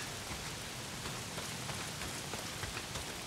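Steady rain pouring down in the video game Days Gone, a constant dense hiss of drops hitting surfaces, with no voices.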